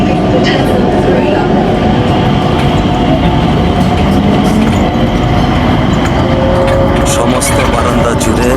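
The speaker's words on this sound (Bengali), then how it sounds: "এই স্কাই ট্রেনে আমরা ইনশাল্লাহ টার্মিনাল 3-তে পৌঁছাবো" The Skytrain at Changi Airport runs toward Terminal 3, a loud, steady interior rumble and rolling roar with faint rattles and a brief rising whine near the end.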